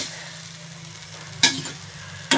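Maggi noodles stirred in a pan: a steady soft sizzle with scraping of a spoon through the noodles, punctuated by two sharp clinks of the utensil against the pan.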